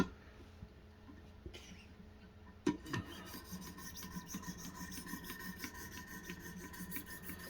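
A knife scrapes across the abrasive stones of a Wicked Edge Pro-Pack III sharpener in quiet, steady rasping strokes, with a sharp click partway through and no voices.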